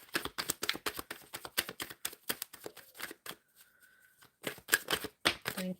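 A deck of tarot cards is shuffled in quick riffling bursts of crisp snapping flicks, close and fairly quiet, with a short pause partway through.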